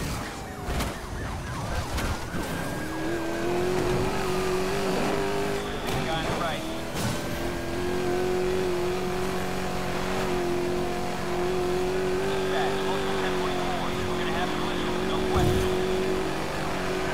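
Race cars in the video game Need for Speed Most Wanted drive along, one engine holding a steady whining pitch with occasional revs, while sirens wail and a voice talks over the game sounds.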